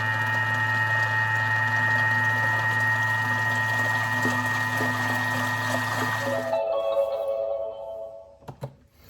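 A kitchen mixer runs at speed 4 with a steady, loud motor hum and whir while milk is poured into the batter, then it stops near the end, leaving a few faint clinks.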